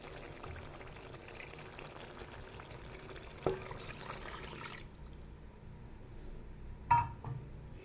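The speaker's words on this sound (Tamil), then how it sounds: "இப்போது நம்ம புளிக்கரைசலை சேர்த்துக்கலாம்." Tamarind water is poured into a simmering venthaiya kulambu, a fenugreek curry, making a soft liquid rush for about five seconds before it quiets, with a couple of sharp pan clinks and quiet bubbling.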